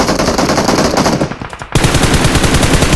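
Loud, dense automatic weapon fire in the battle royale game PUBG Mobile, one continuous burst that dips briefly and then resumes at full intensity, heard on its own.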